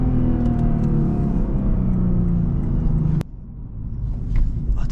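A Lexus IS350 with full bolt-ons and a tune pulls hard on backroads, its engine note loud and climbing before cutting off abruptly into a quieter rumble and road noise.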